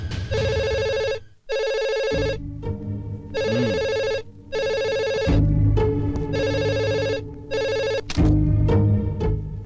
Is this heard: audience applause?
no